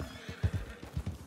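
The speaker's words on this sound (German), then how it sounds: "Schickes Pferd." A horse in Red Dead Redemption 2 Online gives a short whinny of quick pulsing snorts, close and clear, with faint hoof clops mixed in; no voices.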